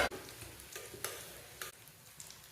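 Spice tempering frying in a pan for spinach dal, a steady soft sizzle with a few brief bursts of stirring, close and alone.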